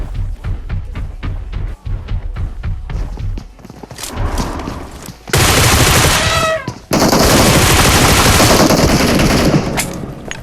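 Gunfire in PUBG Mobile: a rapid train of loud near shots at first, then a pause, followed by heavy bursts of sustained automatic fire and louder blasts, with brief clicks and mechanical sounds between.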